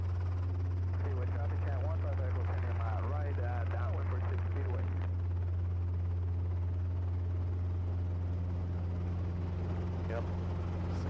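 A helicopter hovering at about 20 meters on a first solo flight gives a loud, steady low rotor and engine drone heard from inside the cabin, with a voice talking over it for part of the time.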